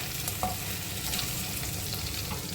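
Potatoes frying in ghee for sabudana khichdi give a soft, steady sizzle with occasional stirring scrapes and small pops, fairly quiet and even throughout.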